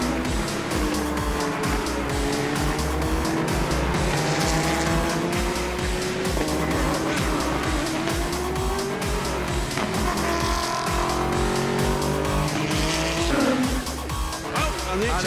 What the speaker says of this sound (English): Spin for the 88 car, there's been contact there.